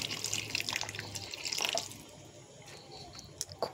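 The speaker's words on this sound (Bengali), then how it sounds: "এবার আমি পরিমাণ মতো ঝোল দিয়ে দিচ্ছি, দিয়ে আরেকটু ঢাকা দিয়ে নামিয়ে নেব।" Broth being poured into a pot of small-fish curry cooking with drumsticks and potatoes: a close, bright splashing pour for about two seconds, then quieter bubbling and a few light clinks.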